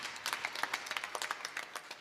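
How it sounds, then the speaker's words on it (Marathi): An audience at a devotional kirtan gathering claps together in applause, a faint, distant patter of many hands with a few sharper claps rising and falling over about two seconds. "आपण एकदा जोरदार टाळी वाजवूया श्री महाराजांकरता."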